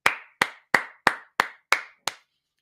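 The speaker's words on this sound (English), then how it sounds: "hand clap" Seven crisp hand claps ring out at an even, brisk pace, each a sharp, close smack with a short decay, then silence.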